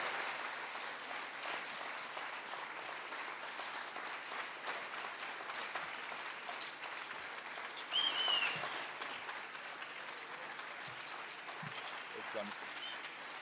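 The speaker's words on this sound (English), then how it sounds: "that's the loudest and longest round of applause I've heard." An audience applauding at a music concert featuring children's and ensemble choirs, a dense, sustained wash of clapping from many hands throughout, with a brief louder swell and a few faint voices and a whistle.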